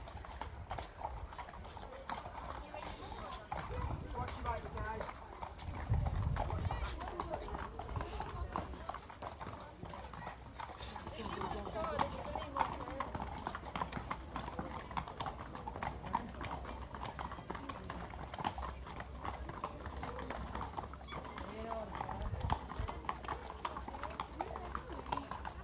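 Horses' hooves clip-clop steadily as riders gather their mounts into a circle at a riding school, a continuous rhythmic clatter of many hooves with people talking throughout.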